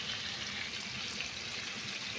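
Water pours into a cooking pot holding chicken seasoned with salt and sugar, a soft continuous splashing stream, faint and steady with no voices.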